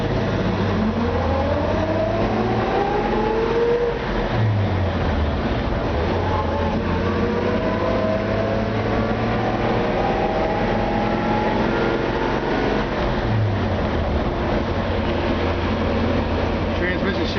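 A 1953 Chevy 3100 pickup in Autumn Brown drives along with a steady, fairly loud engine drone and rumble throughout, while someone talks over it.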